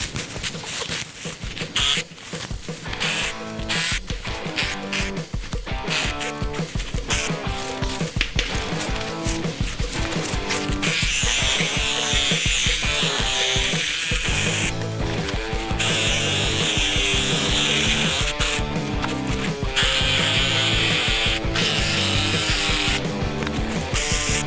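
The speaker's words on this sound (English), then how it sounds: "having a cordless reciprocating saw like this one along with a pruning blade means that you can walk around your yard and trim trees" A Ryobi P516 18V ONE+ cordless reciprocating saw with a pruning blade cuts tree branches, giving a loud, continuous buzzing rasp with rapid stroking chatter that steadies into sustained cutting.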